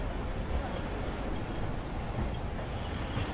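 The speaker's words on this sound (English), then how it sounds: "Oh, I hear a tram. Incoming tram." A tram passing along a city street, heard as a steady low rumble of rail wheels and motor, fairly faint and continuous, with ambient street noise around it.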